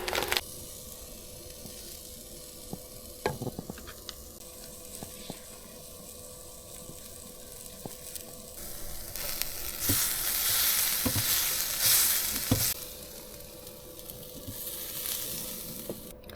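Schnitzels fry in a pan inside a van, a steady close sizzle with occasional crackles and pops that swells louder partway through.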